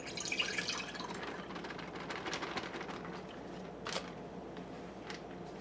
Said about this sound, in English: I'm pouring about a half a cup of chicken stock into it.